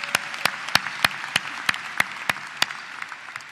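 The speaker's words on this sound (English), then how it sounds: "I think that deserves a round of applause." Sparse, scattered hand claps ring out one after another, a small audience at a college commencement applauding in a thin, uneven patter with no voices.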